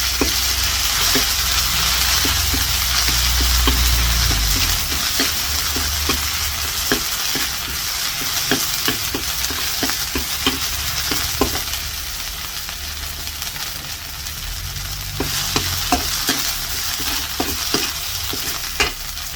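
Red curry paste for a Thai stir-fry of eggplant and pork balls sizzles steadily in a pan, with a dense, continuous frying hiss. Frequent light scraping taps from stirring run close throughout, and no one speaks.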